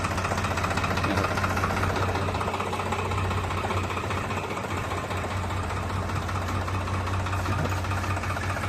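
New Holland TT3.50 tractor engine running on a farm in Thailand, a loud steady diesel chug with constant rhythmic knocking and no pauses.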